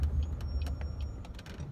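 A faint, thin high squeal of car brakes rides over the low rumble of a moving car, with scattered clicks.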